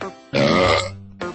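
A single loud, close burp with a deep, rough, voiced tone, followed moments later by a short second vocal sound.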